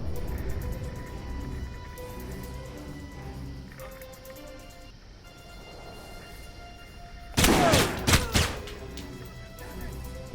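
Chain Shot weapon in the shooter game Alpha Protocol, a short burst of loud sharp blasts late in the clip over a quiet in-game backdrop.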